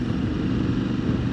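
A motorcycle cruising at about 30 miles an hour on a road, a steady, loud, low engine drone mixed with rushing wind, even and unbroken throughout.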